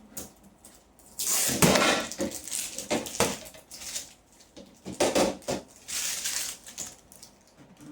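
A filter being fitted onto a water purifier, with a run of plastic clicks, taps and rattling handling noises in irregular bursts, close by and fairly quiet, with no talking.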